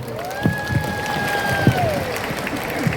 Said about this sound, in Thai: ขอเสียงปรบมือดังๆอีกครั้งหนึ่งครับ